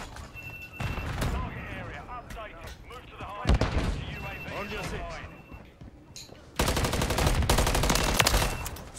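Dense gunfire in Call of Duty Modern Warfare 3 multiplayer, with rapid automatic bursts and heavy reports mixing with shouted voices, growing into a loud sustained volley near the end.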